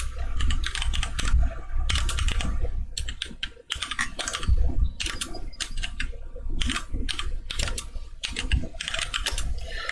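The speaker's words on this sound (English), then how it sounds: "I'm gonna type this right." Computer keyboard typing in quick bursts of clicky keystrokes separated by short pauses, close and clear with no talk.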